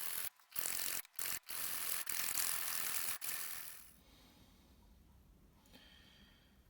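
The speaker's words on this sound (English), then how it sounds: "I'm using the old trick with the two saw blades in a hacksaw." Hacksaw fitted with two blades side by side cuts a slit in metal, giving a run of loud rasping strokes with short pauses between them, then fading to quiet near the end.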